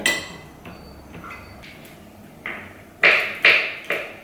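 A few sharp knife taps on a board, spaced irregularly and growing louder toward the end, close by in a quiet room.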